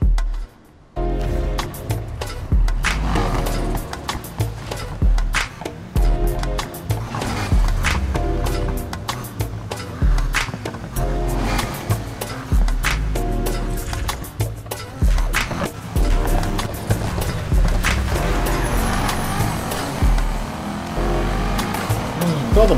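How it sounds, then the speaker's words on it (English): A Lamborghini Countach 25th Anniversary races in Need for Speed Heat, its engine revving and surging with bursts of acceleration, tire noise and scattered clicks over a busy, continuous mix. "Lamborghini Countach 25th anniversary"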